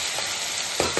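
Ivy gourd and coconut fry stirred in a pan, a steady sizzle with two quick scraping strokes of the spoon near the end, close and alone.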